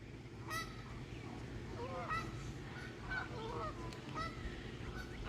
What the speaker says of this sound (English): The wild geese think they own the joint